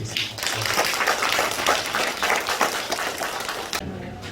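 Inside a Korean church during a Sunday service, the congregation applauds the elder with a sustained, moderately loud round of clapping that stops abruptly near the end.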